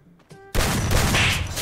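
Loud burst of AK assault rifle fire in a shooter video game, a dense crackling volley erupting after a brief quiet lead-in and sustained to the end.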